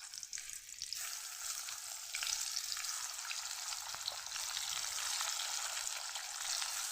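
Bitter gourd (kakrol) coated in turmeric sizzles steadily in hot oil in a kadai, a continuous close frying hiss that swells as the pieces go in and keeps up without talk.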